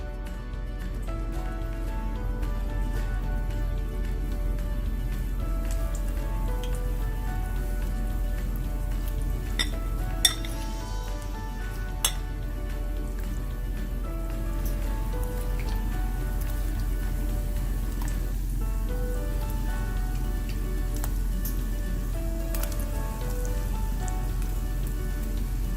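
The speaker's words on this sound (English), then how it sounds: "Try not to overcrowd your oil, because the temperature of the oil will drop as you drop these in." Cauliflower pieces deep frying in hot oil for crispy Gobi Manchurian, a steady dense crackling sizzle that holds at an even level throughout, with a couple of brief sharper pops.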